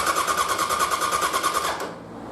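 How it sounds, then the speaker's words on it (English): The starter cranks a motorcycle engine from a new LiFePO4 battery in a fast, even whirring pulse lasting under two seconds before cutting off, leaving a low background hum. "that is cranking pretty damn fast"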